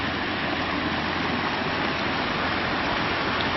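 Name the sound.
waterfall at the edge of the property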